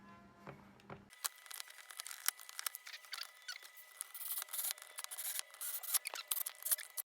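A small screwdriver works screws into the cover of a P1 headphone amplifier being repaired, giving dense, close, scratchy squeaks and clicks after a brief low rumble at the start.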